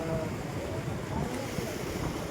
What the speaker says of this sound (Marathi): मांगी धरणातून जास्त प्रचंड वेगाने हे पाणी कानवाळा नदीतून खाली शेना नदीला मिळत आहे